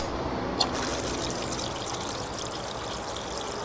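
Steady broadband rush of water pouring and trickling into a gold prospecting spiral wheel, a continuous close wash with one brief splash near the start and no talk.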